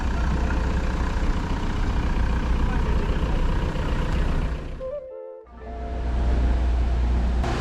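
A Cadillac CTS-V engine with some unidentified noise runs steadily, a deep rumbling drone with a faint whine that cuts out sharply for a moment near the end before the rumble returns.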